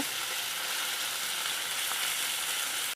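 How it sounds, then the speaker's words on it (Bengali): Onions sizzle in hot oil as they fry toward reddish brown, a dense, even, close hiss that holds steady for the whole stretch and then stops abruptly. "পেঁয়াজটাকে লাল করে ভেজে নেব"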